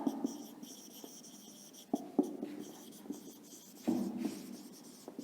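Marker or chalk scratches across a classroom board in short strokes with small taps between them, close and quiet, with no talking over it.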